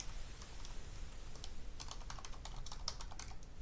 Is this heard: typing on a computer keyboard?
yes